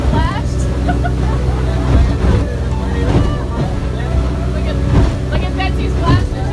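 A tour boat ride on a lake in Guatemala with water splashing over passengers, loud engine drone and wind buffeting with repeated splash bursts, people talking and exclaiming over it.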